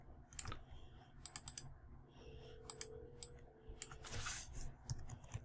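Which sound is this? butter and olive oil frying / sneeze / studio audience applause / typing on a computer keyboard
typing on a computer keyboard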